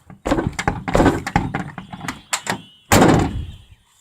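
The stiff door of a long-parked old vehicle is worked open with a series of clunks and rattles, then a final loud heavy thud. It sounds close and there is no talk.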